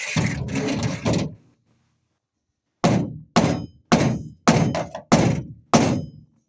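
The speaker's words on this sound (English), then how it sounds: "he's just going to hit it with a hammer" A hammer strikes a board: six sharp, loud, evenly spaced thunks land close by after a short stretch of talk and a pause.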